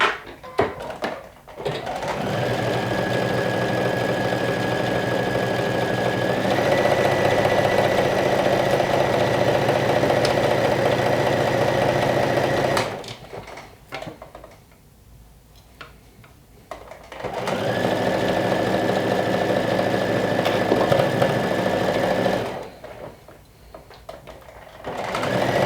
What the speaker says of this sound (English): We're going to run a stitch all the way the side seams with